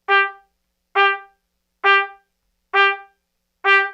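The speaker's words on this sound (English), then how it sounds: "On the trumpet, it would sound something like this." Five short, clipped trumpet notes on one pitch, evenly spaced with silence between each, bright and close with no voices.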